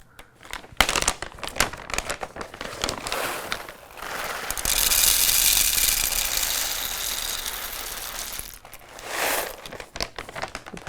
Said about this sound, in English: We'll add in our coffee here.